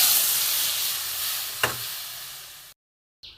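Boiled pea dal goes into a hot pan still coated from fried potatoes, giving a loud close hissing sizzle that slowly fades, with one knock midway before a sudden cut.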